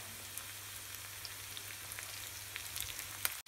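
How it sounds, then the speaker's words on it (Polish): Onion and garlic frying in a pan for a shakshuka breakfast give a steady, close sizzling hiss with scattered small pops and crackles, heard alone without talk. "Więc czekam, aż cebulka się podsmaży i dodaję czosnek."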